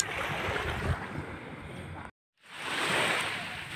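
Sea waves washing onto a beach, a broad steady roar of surf that cuts out for a moment and then swells back in, with no voices.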